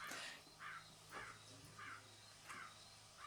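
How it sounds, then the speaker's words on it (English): A crow cawing outdoors, about six evenly spaced harsh calls heard at a moderate distance against a low background hum and faint insect noise. "Did you hear the crow as soon as I said that?"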